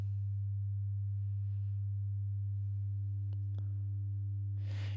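A steady low sine tone hums throughout, slightly thickened by mild saturation, with a couple of faint clicks and a brief hiss near the end.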